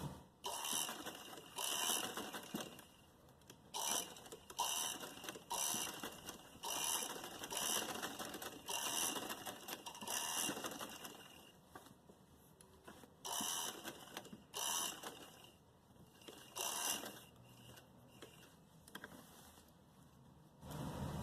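A sewing machine stitches lace onto a kurti neckline, running in steady mechanical bursts that stop and restart in short runs, with its clattering needle loud and close.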